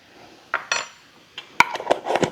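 A spoon is picked up from among metal kitchen utensils, making a few sharp clinks and rattles in short bursts, close and clear with no talking.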